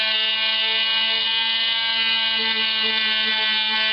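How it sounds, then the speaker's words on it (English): A high-powered Dremel rotary tool buffs an Xbox 360 disc, giving a steady, loud, high-pitched motor whine that holds unbroken throughout, with no talk. "High-powered Dremel tool."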